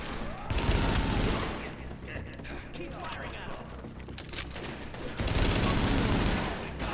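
Gunfire in The Division video game during a fight at a New York police station, dense sustained volleys of shots, loud and close, with a player talking over it.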